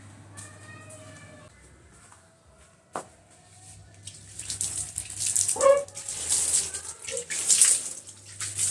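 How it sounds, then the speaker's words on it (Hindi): Water is splashed and sprayed onto household items during home cleaning, coming in uneven bursts that grow louder and busier toward the end, with a low hum running underneath. "तो सबसे पहले ना मैं ये उठा लेती हूँ और इन पे पानी मार लेती हूँ"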